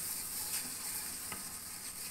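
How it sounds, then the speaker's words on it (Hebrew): A flour roux being stirred in a pot as boiling stock or water is added bit by bit, a steady soft sizzle with faint scraping stirs, close and continuous. "אנחנו עובדים עם נוזל רותח, לא משנה אם זה ציר או מים, ושמים כל פעם קצת ומערבבים"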